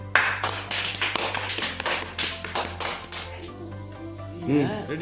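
Hands clap as applause during a children's find-the-fruits game, a run of sharp claps over steady background noise with talk and music-like tones in the room.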